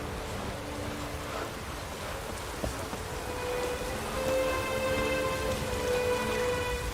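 Steady rain patters across the whole stretch, a broad wash of drops with a low rumble underneath and one sharp knock partway through.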